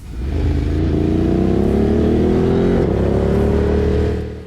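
A Ducati Monster 937 with upgraded Ohlins suspension accelerates on a rough road, its engine loud and close, revving steadily upward in pitch over several seconds amid wind noise.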